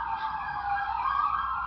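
A steady emergency siren wails continuously at moderate loudness, a sustained tonal sweep with no voices over it.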